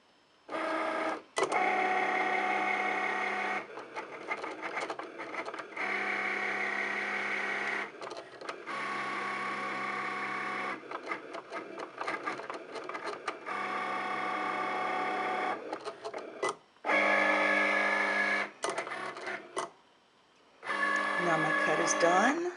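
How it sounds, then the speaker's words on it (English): A cutting machine's blade mechanism whirs as it raises and lowers, producing long stretches of steady motorized hum and buzz separated by brief pauses and clicks, with a person talking over parts of it. "the cut mechanism is raising and lowering"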